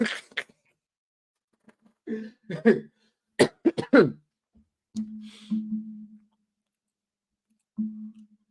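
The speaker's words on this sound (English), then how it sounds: "I coughed up phlegm" Several harsh, wet coughs bringing up phlegm and throat-clearing bursts come in short clusters, separated by pauses, with a low grunting hum trailing after some of them.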